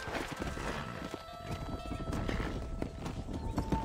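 Horse hooves clip-clop on a dirt trail in the Red Dead Redemption video game, a dense, continuous run of hoofbeats with a steady ambient bed underneath and no talk over it.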